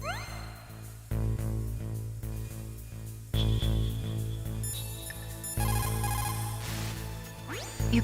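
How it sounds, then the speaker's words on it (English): Electronic ringing of the Codec radio call in the Metal Gear Solid video game, repeating tones that sound in several loud bursts over a steady background music bed, with no talking. "You called Snake?"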